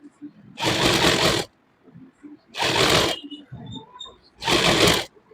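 A sewing machine stitches the lining of a suit in three short bursts of about a second each. Quiet handling of the fabric and faint voices fill the pauses between the bursts.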